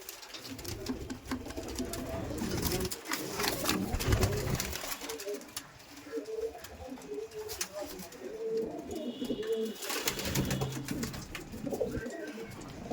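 Madrasi pigeons coo in a steady, overlapping chorus throughout, close and moderately loud, with a few brief higher calls mixed in and no talking.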